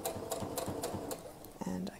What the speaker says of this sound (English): So I backstitch over it.